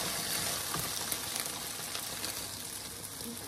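Steady sizzling crackle as baked beans and vegetables are stirred together for a salad in a pan, a continuous close hiss with no talking.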